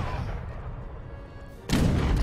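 Cannon artillery fire in the real-time strategy game Age of Empires III, a single loud booming blast that bursts in near the end after a stretch of rumbling battle ambience.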